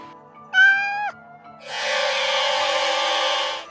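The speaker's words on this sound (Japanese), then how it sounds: "子猫はキャンと鳴いて逃げていきました" A kitten gives a short, high meow, followed by a longer, strained cry a moment later, both close and clear against a quiet background.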